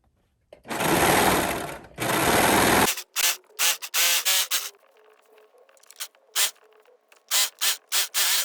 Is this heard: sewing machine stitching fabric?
yes